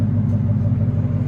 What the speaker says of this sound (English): Here it is at idle, guys. Got even a really nice clean idle